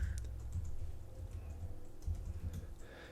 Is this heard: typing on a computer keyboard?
yes